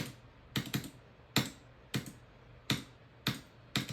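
Computer mouse and keyboard controls clicked and held while playing the game Phobos: sharp plastic clicks, some in quick pairs, spaced about half a second to a second apart, close and clear over quiet room tone.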